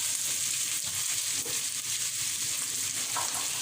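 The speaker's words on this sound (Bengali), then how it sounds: "পেঁয়াজ কুচি, কাঁচামরিচ কুচি দিয়ে এখন ভালো করে নেড়ে নিব।" Chopped onion and green chili stir-fried in a pan give a steady, loud sizzle close by, with faint scraping from stirring and no talking.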